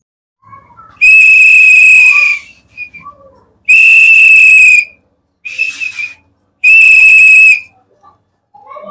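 A loud, shrill whistle blown in four sharp blasts, each about a second long, with short gaps between them, close up at an election campaign celebration, with faint background chatter in the pauses.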